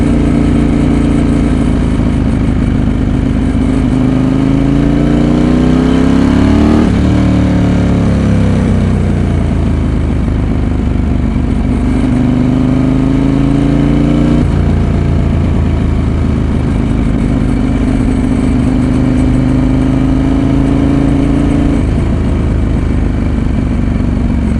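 A Ducati 916 motorcycle engine revs loudly and close by, climbing and falling in several long sweeps and bouncing off the rev limiter, with no voices.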